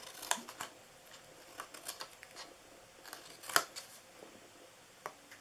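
Scissors cut paper pieces for a DIY Christmas gift box: scattered crisp snips at an irregular pace, close and fairly quiet, with no talking.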